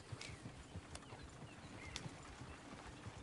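Horses in the open-world western game Red Dead Redemption 2, heard as steady clip-clop hoofbeats with scattered snorts and tack noise over a continuous outdoor ambience at moderate distance.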